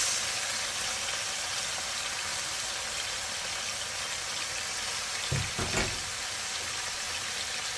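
Carrots and other vegetables sizzle steadily in a hot frying pan, a continuous close hiss with a brief louder clatter of stirring or a spoon near the end.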